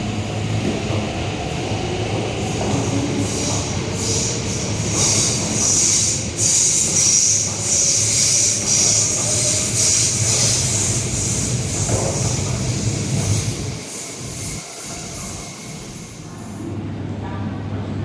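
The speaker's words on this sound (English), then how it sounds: "A train to Admiralty is arriving." A Hong Kong MTR train rolls into a station platform, loud rumbling wheels and a high metallic squeal building, then easing as the train slows and stops; faint voices are present.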